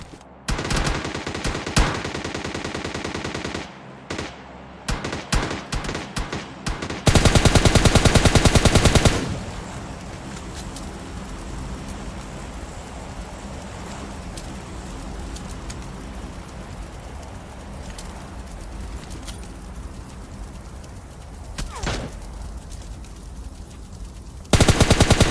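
Rapid bursts of Uzi submachine-gun fire in a mobile battle-royale shooter game, loud and dense at the start with a sustained roar, then fading into quieter continuous ambience with occasional distant shots.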